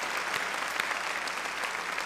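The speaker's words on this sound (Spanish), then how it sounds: "¿Cuándo dan un aplauso al Señor esta mañana?" A church congregation on a Sunday morning breaks into applause, a dense, even wash of many hands clapping at moderate volume, slightly distant, with no voices over it.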